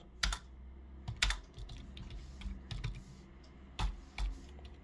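Computer keyboard keys typed while entering C code, with scattered single keystrokes and short bursts, fairly close and moderately quiet, with no voices.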